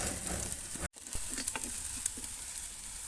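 Goat meat fries in a pan for soup, giving a steady close sizzle with faint crackles and a brief gap near the start.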